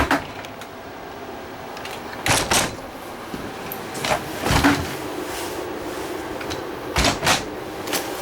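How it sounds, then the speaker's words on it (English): A few sharp mechanical clunks and thuds of a 12-volt refrigerator door in a Grey Wolf 26BRB travel trailer swinging open and shut, spaced apart over faint background rumble. "a refrigerator that The door opens either way."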